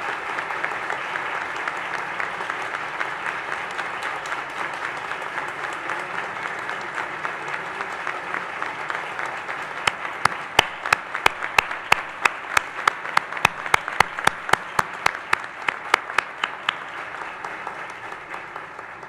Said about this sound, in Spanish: les ofrezcan un aplauso de agradecimiento a ellos y a quienes contribuyeron que ustedes estén hoy aquí